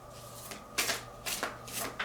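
An oracle card deck is shuffled by hand, giving soft riffling swishes in a loose rhythm of four or five strokes, close but quiet over a faint hum.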